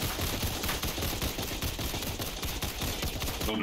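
Rapid, continuous minigun fire in the Roblox game Tower Defense Simulator during a Halloween event, a dense unbroken rattle of shots at steady loudness throughout.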